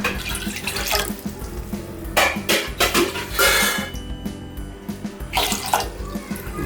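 About one litre of water runs and splashes steadily into a metal pot for millet sweet pongal, with brief clinks of cookware and a few louder gushes along the way.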